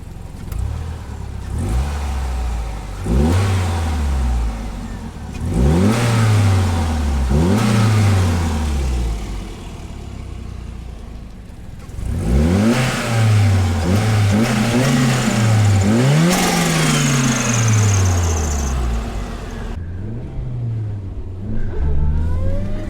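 A Toyota RAV4 with a swapped 3S-GTE engine revs repeatedly in snow, rising and falling in pitch in bursts with brief lulls between, loud and close.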